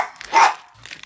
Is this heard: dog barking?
yes